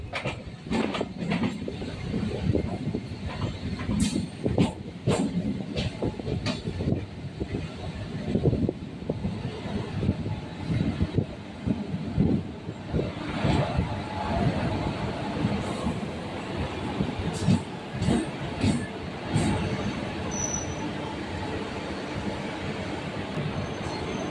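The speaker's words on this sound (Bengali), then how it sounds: "আমাদের ট্রেন এখন কাঞ্চনজঙ্ঘা এক্সপ্রেসকে পিছনে ফেলে দিয়ে আগে বেরিয়ে যাচ্ছে" Local train running from Sealdah to Barrackpore, a steady loud rumble of wheels and carriage with rhythmic clatter over rail joints throughout, no voices.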